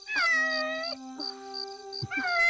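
A cat meows several times, drawn-out plaintive cries with short pauses between them, close and clear against a silent background.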